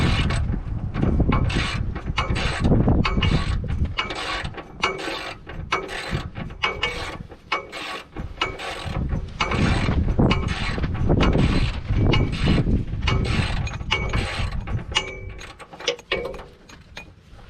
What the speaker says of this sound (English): do y'all's ratchets do that too?